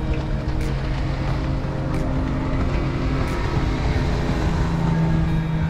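A houseboat engine on the Kerala backwaters near Alleppey drones steadily throughout, a low continuous rumble with a faint water wash, no talking.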